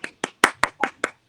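Six sharp hand claps in a steady, slightly uneven rhythm, close and fairly loud, each a short burst with a quick decay and brief silence between.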